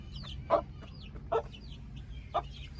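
Hens and their chicks clucking outdoors, three short close clucks spaced apart, with faint high chick peeps in between over a quiet background.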